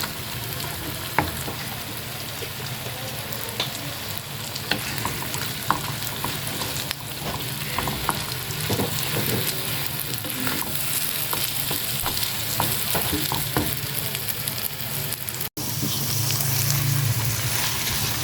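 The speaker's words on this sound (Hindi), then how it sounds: "बस ये है कि टमाटरों की थोड़ी सी भुनाई कर रही" Tomato paste frying and being stirred in a pan for a kebab bharta, a steady loud sizzle with frequent scraping and clinking of the spoon against the pan throughout.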